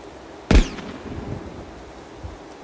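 A single sharp, loud gunshot crack rings out early, followed by a fainter second shot and quiet ambient noise.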